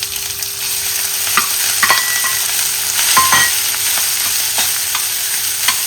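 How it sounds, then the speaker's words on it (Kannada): Cooked rice stir-fried in a pan with mustard seeds, curry leaves and chopped green chilies: a loud, steady sizzle with scattered spatula scrapes and clinks. "ಚೆನ್ನಾಗಿ ಇದನ್ನು ಫ್ರೈ ಮಾಡ್ತೀನಿ"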